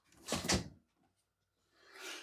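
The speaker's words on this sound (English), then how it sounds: "Close that door so we can hear him even less." A door swung shut with a short knock of contact, followed by a brief quiet pause and a softer rustling thud, close by and fairly quiet.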